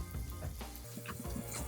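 Onions sizzling gently in a pan over medium-low heat for homemade marinara sauce, a steady soft crackle and hiss with faint stirring clicks, quiet and continuous without any talking.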